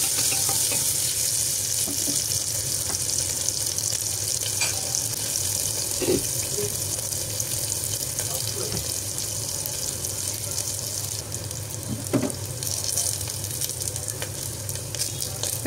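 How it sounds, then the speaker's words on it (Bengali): Chopped onions and green chilies stir-frying with spices for beef vegetable khichdi, producing a constant close sizzle with scattered scraping stirs throughout, no speech. "কাটা পেঁয়াজ আর কাঁচামরিচ দিয়ে খুব ভালোভাবে নেড়ে চেড়ে নিচ্ছি, মশলার সঙ্গে একটু ভেজে নিচ্ছি।"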